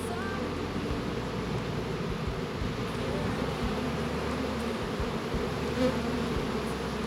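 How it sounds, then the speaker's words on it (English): A dense swarm of honeybees buzzes continuously all around, a thick, droning hum with no talking, steady and close. "And we are amongst the bees."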